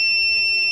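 A multimeter in continuity mode beeps steadily while probing a low-value 0.005 ohm resistor on a laptop battery board, a continuous high electronic tone lasting the whole moment with no talk.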